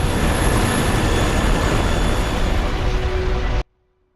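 A helicopter in the video game Metal Gear Solid 2, a loud, steady rotor and engine roar that cuts off abruptly near the end.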